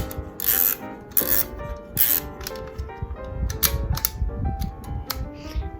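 A 1920 Kodak film camera being wound by hand, giving repeated scratchy ratcheting clicks and rasps at close range, in bursts with short pauses between them.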